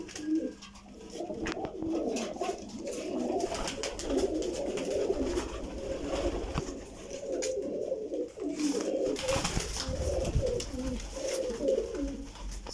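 A flock of around fifty pigeons coos continuously at close range, soft overlapping throaty calls rising and falling with no one speaking.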